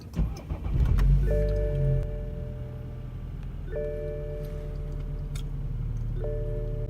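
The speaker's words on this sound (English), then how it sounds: "Cold start BMW 3 Series." A BMW 3 Series xDrive engine cranks and catches in a cold start at about 4 degrees, settling into a steady idle with a faint repeating electronic chime over the rumble.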